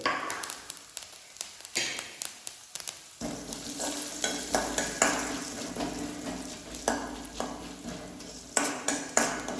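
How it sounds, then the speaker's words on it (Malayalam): Urad dal frying in hot oil in a pan for a Kerala-style rasam, with steady sizzling and repeated scrapes and clinks of a spoon stirring against the metal, close and alone. "ഇനി അതിലേക്ക് നമ്മൾ ഇടുന്നത് 2 ടേബിൾ സ്പൂൺ ഉഴുന്ന് പരിപ്പ്"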